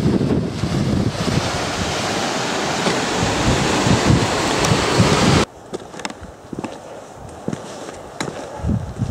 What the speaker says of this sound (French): Jolie cascade là qui se jette dedans.